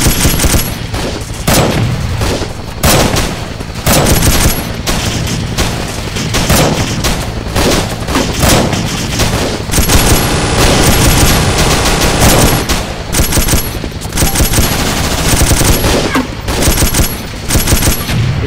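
Dense, continuous gunfire from a Vietnam War battle defending a forward operating base in a realism military video game, with rapid bursts and loud reports overlapping throughout, close and relentless.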